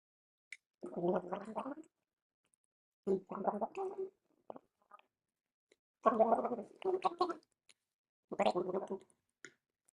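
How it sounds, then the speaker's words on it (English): Wet, bubbling gargling in four separate bursts, each lasting about a second, with short pauses between them. It is close and fairly loud. "If you take too big sip of water, it's hard to gargle."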